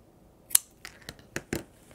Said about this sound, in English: On this very end, just snip off a little triangle right to that edge of the stitching line.